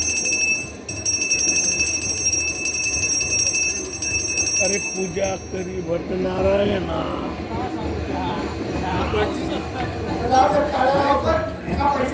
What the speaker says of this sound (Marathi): आता ही घंटा वाजवा नाद ब्रह्म केला पाहिजे